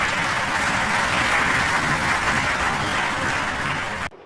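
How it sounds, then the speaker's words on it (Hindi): A seated audience at a speech breaks into loud, sustained clapping, a thick continuous roar of many hands that holds steady for about four seconds before cutting off abruptly. "उनके सामने बैठे सारे पढ़े लिखे लोग अंधभक्तों की तरह ताली पीट रहे हैं।"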